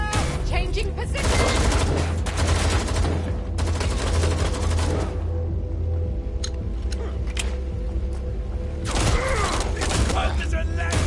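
Bursts of rapid automatic gunfire crackle in an urban shooter game set in London, loud volleys separated by a quieter lull, with voices calling out over the shooting.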